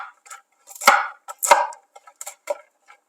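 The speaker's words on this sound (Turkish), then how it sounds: "Cevizlerimi iri iri doğruyorum." Walnuts chopped coarsely on a cutting board, a handful of close, crisp knife strikes and crunches in an irregular rhythm against a silent background.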